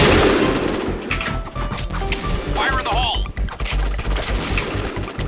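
Rapid gunfire in the Point Blank shooter game: a dense run of sharp, close shots rattling steadily for several seconds, with clanks and small electronic effects mixed in.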